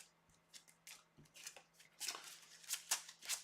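Playing cards get shuffled back into a deck during a tabletop card game, a quiet run of crisp riffling flicks and soft slides that grows busier and louder toward the end, with no talking.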